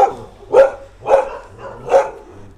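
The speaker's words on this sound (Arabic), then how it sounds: "يعني دي كلبه عجوزه." Dog barking at an Egyptian dog shelter, three loud close barks spaced roughly evenly about half a second apart, with quiet background between them and no talk.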